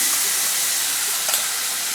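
Spice paste hits frying potatoes in hot oil, giving a steady, dense sizzle and hiss heard close by, with a faint stir partway through and no voices.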